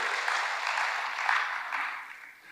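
A church congregation applauds during a sermon, a sustained wash of many people clapping that swells briefly and then tapers off toward the end, with no voices over it.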